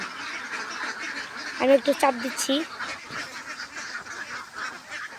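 Farm ducks, part of a flock of 360, crowd into their tin-and-net shed with a brief cluster of honking quacks in the middle, set against steady outdoor background noise while someone talks over them.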